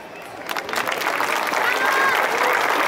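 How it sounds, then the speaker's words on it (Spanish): Applause from a crowd at a charro queen event in Tepehuaje de Morelos, Jalisco, Mexico, starts scattered and quickly swells into steady, loud clapping, with a few voices mixed in. "Fuerte el aplauso, por favor."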